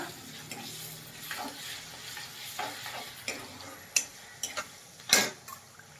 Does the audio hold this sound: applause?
no